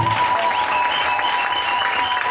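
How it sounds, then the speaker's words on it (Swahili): Steady applause from a crowd at a church service for a bishop's consecration, dense and continuous throughout, with no voices standing out. "Tumpe Yesu makofi."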